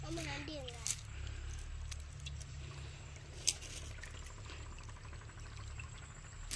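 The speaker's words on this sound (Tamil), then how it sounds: "இப்போதான் தண்ணி ஓடுது" Water runs steadily in a small village stream where fish are being caught, with a continuous close trickling wash and brief voices near the start.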